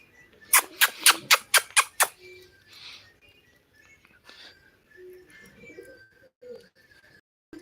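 A pigeon arrives with a quick burst of rapid wing claps, then soft, low coos and a few faint chirps at close range, with no talking.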